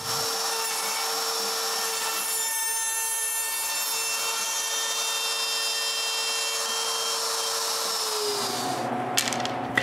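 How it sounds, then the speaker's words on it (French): An X-Carve CNC router cuts wooden templates for drilling mortises, a steady, even whine with a constant cutting hiss that runs without a break, then shifts and stops near the end. "J'utilise mon X-Carve pour couper des gabarits qui m'aideront à percer les mortaises"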